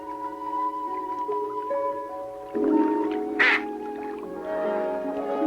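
Adult mallard ducks on a marsh give a short burst of harsh quacks partway through, over steady tonal background sound.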